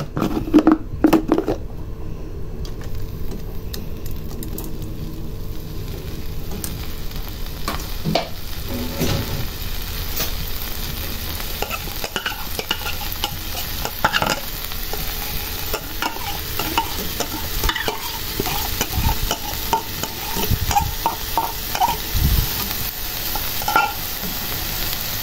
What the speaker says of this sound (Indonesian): aku tumis pakai api kecil aja sampai